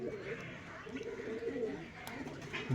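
A black-beaded Matraj breeding pigeon coos softly at close range in repeated low rolling calls, while faint background voices are also present.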